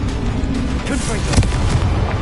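A Confringo blasting spell bursts in Hogwarts Legacy, a loud booming explosion with rumbling low-end crackle amid the noise of combat, one sharp peak standing out over a dense continuous roar.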